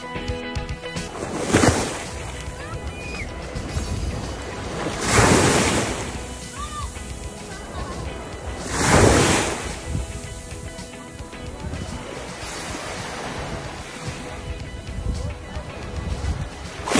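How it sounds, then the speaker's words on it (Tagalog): Sea waves wash onto a beach after dark during a holiday outing. Broad surges crash roughly every four seconds over a constant hiss of surf and wind, with faint voices in the background. "sobrang sarap pakinggan ng alon"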